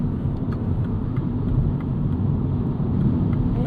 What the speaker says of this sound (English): Do you prefer it with or without the piped-in engine noise?